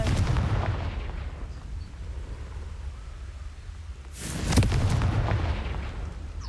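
Confringo explosive spell in the video game Hogwarts Legacy: a loud booming blast with a long rumbling decay, then a second forceful burst about four seconds later.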